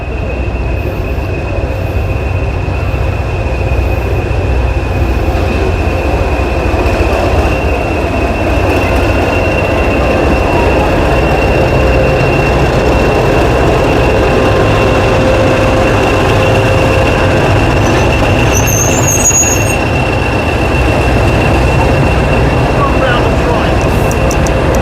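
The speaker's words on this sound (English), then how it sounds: "let's begin checking out this awesome old school vintage" A vintage train on the Epping & Ongar Railway in England runs with a loud, constant rumble of wheels and carriages, steady and close throughout.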